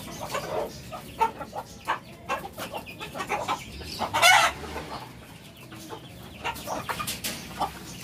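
Chickens and a rooster cluck close by in a backyard setup, with scattered calls, a brief louder squawk midway, and shuffling around them.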